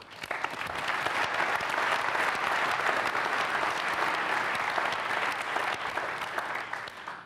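A full round of applause from a business conference audience about IHG hotel results, dense, even clapping sustained for several seconds at close range, with no talking over it.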